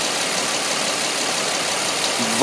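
The engine of a 2004 Nissan Maxima Nismo idles with a steady, even hum and a broad, constant wash of noise, ending with a brief louder sound at the close.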